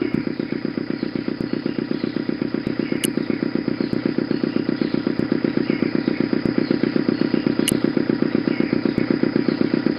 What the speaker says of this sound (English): The motor spluttered into life.